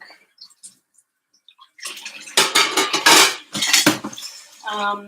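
Dishes being washed in a sink, with clattering plates and cutlery, running water and knocks close by after a quiet start with only a few small taps.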